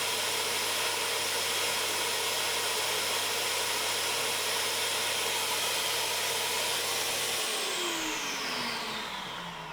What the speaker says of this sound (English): an alternative is just to put the vacuum pipe on